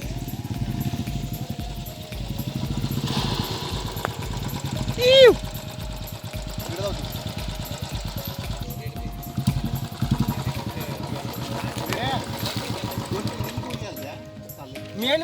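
Motorcycles idle and putter at a beach in South Goa, their steady engine chugging close by with a brief rev midway. People talk over the engine noise.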